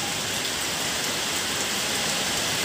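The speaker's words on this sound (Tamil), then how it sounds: "மழை நல்லா ஸ்டார்ட் ஆகிடுச்சு." Steady heavy rain pouring down outdoors, a dense unbroken hiss of drops on surfaces that stays loud and even throughout, with no voices.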